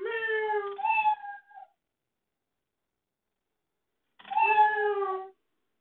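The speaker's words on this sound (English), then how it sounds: "So I'm going to go to sounds and start sound meow." A cartoon cat meow sound effect from the Scratch coding program plays twice, a clear two-part meow, then a gap of silence before a second meow near the end.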